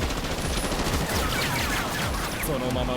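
Dense anime-style gunfire from a group of attacking men, a continuous loud fusillade of rapid machine-gun shots filling the whole stretch.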